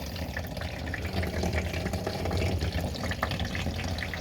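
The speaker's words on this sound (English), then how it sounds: "So now I'm about to find out where the water is by just holding the hose on" Water from a garden hose runs over an RV window, a steady splashing and trickling wash that continues without pause, heard up close with no talk.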